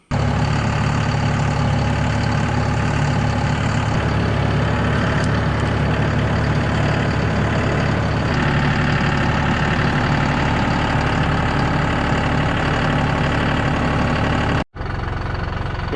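A John Deere 5075E tractor engine idles close by, a loud, steady diesel rumble with an even knocking rhythm that runs unbroken for the whole stretch apart from one brief dropout near the end.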